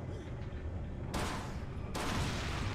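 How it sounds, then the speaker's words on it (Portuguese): Bursts of TMP submachine gun fire in the Resident Evil 4 video game, loud broadband rattles that start abruptly and continue as sustained automatic fire, with no talking over them. "Posso estar gastando munição de TMP assim"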